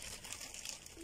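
Plastic bag crinkling as it is opened beside a lake in a New Jersey park, a steady bright rustle of thin plastic heard up close for about a second.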